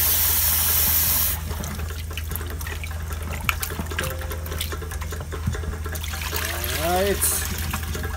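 Tap water runs steadily into a kitchen sink while oxtail is washed with a little vinegar, a broad continuous hiss under a person talking, with a brief louder gush at the start.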